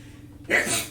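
A single sneeze bursts out abruptly after a quiet moment, a short breathy explosion heard close during a casual conversation.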